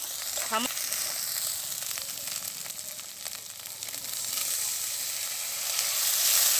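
Turmeric and spices sizzling as they fry in a pan for an egg dish, a continuous soft hiss with light stirring scrapes, an early brief squeak, and the sizzle rising slightly toward the end.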